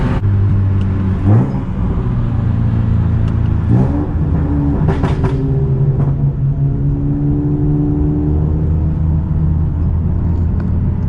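A car accelerating hard on a road, its engine revving up and rumbling loudly, with a couple of sharp exhaust pops during the pulls.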